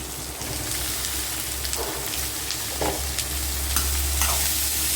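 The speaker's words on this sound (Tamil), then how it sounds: "வேக வச்சு எடுத்து வச்சுருக்கேன் கொத்தவரங்காய் வறுத்துக்கலாம்" Boiled cluster beans fry in a pan with a continuous close sizzle and crackle, broken by occasional scraping stirs that grow slightly louder toward the end.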